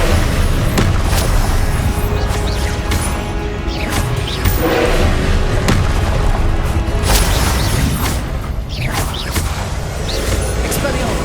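Confringo explosive spells from Hogwarts Legacy burst with loud booms, crashes and whooshes across a continuous, busy battle soundscape.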